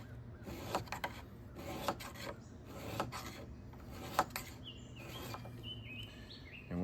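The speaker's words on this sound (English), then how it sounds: "I drag back 20 times and then I check for that burr." Stainless Mora Companion knife spine dragged square against a sharpening surface, a series of raspy scraping strokes repeating roughly once a second, close and moderately quiet, with faint high chirps late on.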